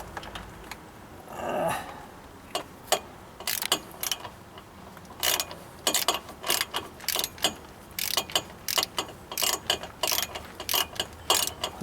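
Ratchet clicking in short irregular bursts while tightening header bolts on a Polaris Slingshot fitted with a 1320 Performance V2 stainless steel header, close and crisp with brief pauses between strokes.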